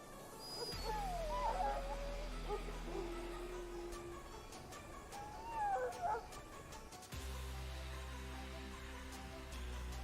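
A dog in the video game Dragon Age Origins whimpers and yips in a few pitched, whining cries, with a low rumbling game ambience and a brief break partway through.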